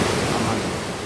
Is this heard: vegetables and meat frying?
no